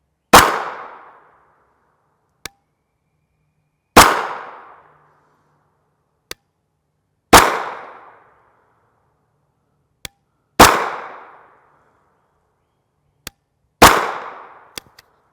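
Five unsuppressed 9mm pistol shots firing IMI blue tip ammunition, each a sharp loud crack with a short decaying tail, spaced about three seconds apart with faint clinks of spent casings between.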